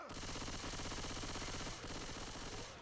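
Automatic gunfire in Left 4 Dead 2: a dense, rapid stream of shots fired in sustained bursts, with a brief gap near the middle before firing resumes, loud and uninterrupted otherwise.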